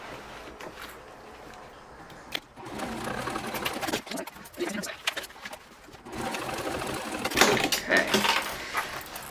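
Sewing machine top stitching a seam on a conceal and carry purse, running in bursts with quiet pauses between them, rattling rhythmically close by, with a brief spoken word near the start.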